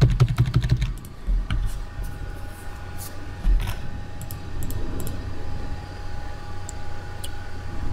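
Typing on a computer keyboard, with a burst of quick close keystrokes at the start, then scattered lighter taps over a steady low hum.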